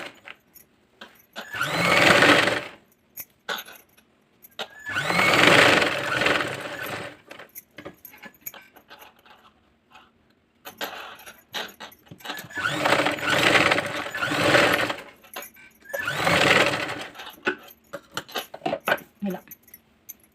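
A sewing machine stitches round the edge of a fringe-cut dress in four loud bursts of whirring, with brief pauses between runs.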